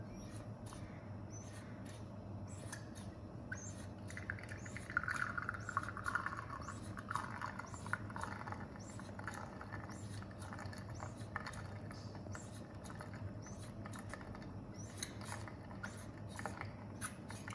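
A Wacaco Picopresso espresso maker being hand-pumped with a coarse grind, giving a faint, steady series of small mechanical clicks and squeaks at close range, with a soft hiss flowing through the middle of the stretch.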